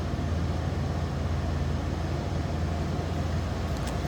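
A 1987 Ford F-150 Supercab with a fuel-injected 5-liter 302 V8 idling, heard from behind the truck as a steady, loud low rumble with a constant even drone and no talking.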